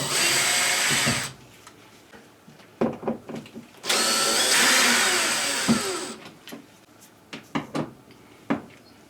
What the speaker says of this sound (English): Now we're going to take this Phillips number 2 off.